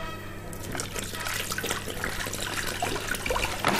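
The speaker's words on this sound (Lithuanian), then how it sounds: "Taigi, pilame vandenį." Bottled mineral water pours steadily into a container to make a salt brine flavoured with thyme and garlic. It is a continuous, close splashing stream that starts after a short pause and runs to the end.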